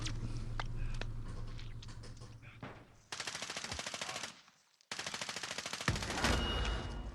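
Automatic gunfire in the Warzone video game, loud, rapid bursts filling most of the clip with a brief pause in the middle, no talk over it.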